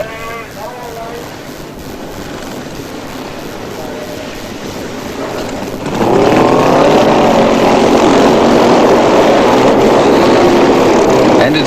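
Vintage racing motorcycles, a Triton Special and a BSA, roar off the start line at the 1983 Bathurst historic race, engine noise swelling sharply and staying loud and dense under a commentator's voice.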